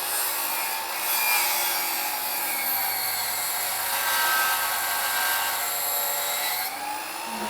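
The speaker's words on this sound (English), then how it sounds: "So the first step to doing this is just cutting one side with a miter." Miter saw beveled to 45 degrees cutting wooden window trim, a steady loud whining buzz of the blade through the wood that runs the whole time with no talk over it.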